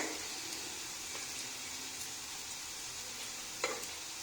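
Hotel-style chicken gravy masala with chilli powder, garam masala, turmeric and coriander powder sizzles steadily in a pan, with occasional soft clinks of stirring; a low, even frying hiss with no talk.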